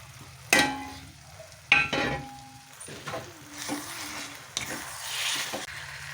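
Cauliflower florets being stir-fried in hot oil for a home-style cauliflower sabzi. A series of loud spatula scrapes and tosses sound close by over a low sizzle, with about five separate bursts spread across the stretch.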